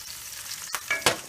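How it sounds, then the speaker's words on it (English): Tomato pasta sauce with dried oregano, basil and thyme being stirred in a pot, a soft sizzle underneath and two or three brief scraping, swishing spoon strokes close by near the end. "Give that a good stir"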